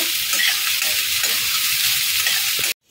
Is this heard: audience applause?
no